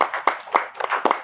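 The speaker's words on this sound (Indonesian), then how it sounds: "Tepukan." Audience clapping at a Semarang regional meeting, a brief burst of several overlapping hand claps in an uneven rhythm, close and moderately loud.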